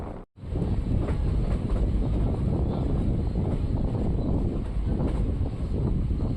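A passenger train between Bagalkot and Hubballi rolls along steadily, approaching Mallapur station, with a constant loud rumble and faint wheel clatter, plus wind buffeting the microphone.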